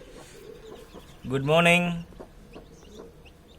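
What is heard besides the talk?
Siruvidai country hen clucking with newly hatched chicks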